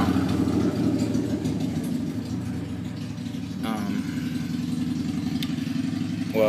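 A go-kart engine with a belt and chain drive, the belt jerking, runs steadily with a low, even idling chug, fairly close, and a voice speaks briefly over it.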